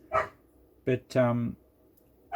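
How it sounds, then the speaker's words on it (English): A dog barks a few times in the background, loud sharp barks between a man's speech indoors as he talks over it. "you'll have to excuse the dog in the background"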